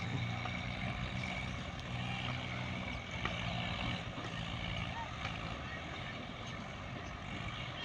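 Many tractor engines drone together in a steady, loud, continuous rumble outdoors near water, with wind buffeting the microphone throughout.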